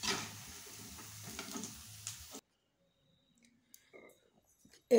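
Corn pakoras sizzle in frying oil with a moderate, bubbling hiss for about two seconds as they are lifted out, then the sound drops to near silence broken by a few light clicks.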